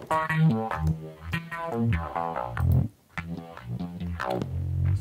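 Acoustic guitar synth sent through a whammy pedal with a Haas stereo widening effect, a dense run of plucked, pitch-bending notes with a brief gap near the middle, heard alone.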